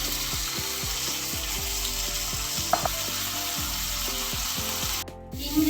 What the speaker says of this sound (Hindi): जैसे ही अब पैन गर्म होगा तो मैं इसके ऊपर फिश ग्रिल करूँगी।